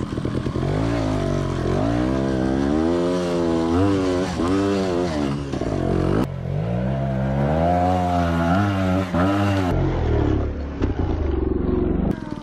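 A trial motorcycle engine revs hard under throttle, its pitch climbing and dropping in repeated surges across a continuous, loud, close drone with no talk.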